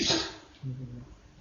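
A single sharp sneeze from a person nearby during an Islamic lecture in Indonesian, followed by a short murmured reply.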